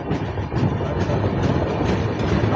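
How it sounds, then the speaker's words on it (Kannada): Yesvantpur to Vasco da Gama express train pulling out of Tumkur, a continuous low rumble of wheels and carriages with faint clicking, steady and fairly loud throughout, no voices. "ತುಮಕೂರಿಂದ ಡಿಪಾರ್ಟ್ ಆತ್ರಿ ಈಗ ನಮ್ಮ ಟ್ರೈನ"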